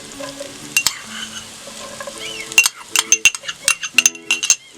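Chopped onions going into a pan with roasted ginger and garlic, then a spoon stirring and clinking against the pan in quick close scrapes over a light sizzle, with no talking.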